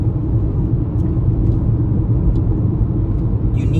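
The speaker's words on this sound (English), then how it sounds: "I'm going to have another 10-ish minutes of really just the noise of my car" Steady low road rumble inside a moving car, a dense continuous drone with faint hiss above it, even in level throughout and with no other sounds standing out.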